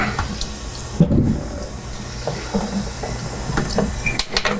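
A glass wine bottle being rinsed with water, giving sloshing and clinking of glass at close range, with a brief louder splash around the middle and scattered small knocks.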